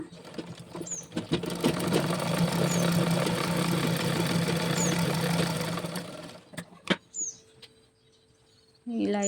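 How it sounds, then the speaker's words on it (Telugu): A sewing machine runs in a fast, steady mechanical rattle while stitching the leg hems of a Punjabi dress pant, close by. It stops after about six seconds, followed by a few handling clicks and quieter moments. "మళ్ళా ఫస్ట్ వైపు నుంచి కుట్టేసుకుంటున్నాను"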